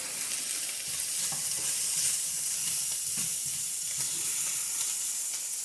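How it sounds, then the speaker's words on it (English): Chicken apple sausages sizzling and starting to burn in a hot frying pan, a steady close, bright crackling hiss that holds for several seconds without any talk. "Doing other things and not paying attention, so I'm burning my sausages."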